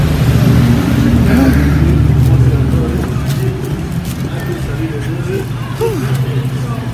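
A car engine runs with a steady low rumble that eases slightly partway through, heard close from inside the car, with faint background noise and no clear speech.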